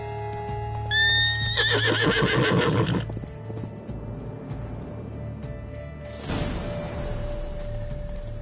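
Roach, Geralt's horse in The Witcher 3, gives a loud, close whinny with its hoofs clip-clopping. A quieter snort and shuffle follow a few seconds later.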